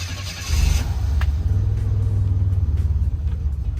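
A 1984–87 turbo Buick engine cranks and catches with a loud rumble at about half a second, then idles roughly and unevenly before stalling, sounding close.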